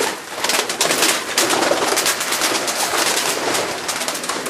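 Racing pigeons in a loft cooing, a dense chorus of overlapping soft coos and wing rustles heard close and fairly loud, continuing steadily without talk.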